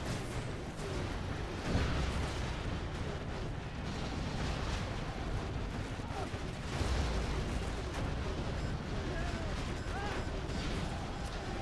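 Scud launcher artillery fire in a strategy video game grand final forms a steady, dense rumble of distant blasts and battle noise, with commentators talking over it throughout.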